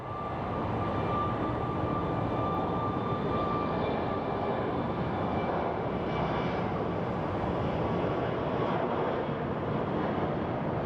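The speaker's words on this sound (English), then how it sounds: "we get to see the last few seconds of the takeoff of the Indianapolis flight" An airliner on the Indianapolis flight takes off at Sky Harbor Airport, its engine roar steady and broad throughout, with wind buffeting the microphone and no talk over it.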